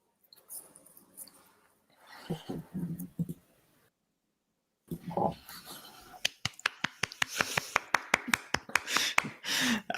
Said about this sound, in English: I'm giving the claps that people are sure wanted to give you from home.